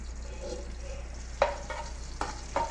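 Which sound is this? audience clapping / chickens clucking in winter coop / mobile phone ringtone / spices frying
spices frying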